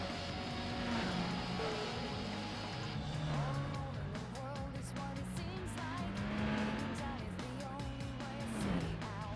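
Race cars in Gran Turismo 4 driving on a track, with a steady engine drone whose pitch rises and falls through gear shifts, plus occasional higher whines from nearby cars, moderately loud and continuous.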